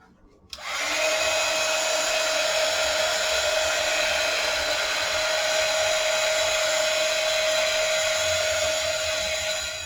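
A hair dryer runs continuously, drying craquelure varnish on a decoupage craft piece; it switches on sharply after a brief quiet start and then holds a loud, steady whirring blow with a high tonal whine.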